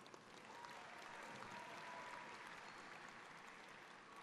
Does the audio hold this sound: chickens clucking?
no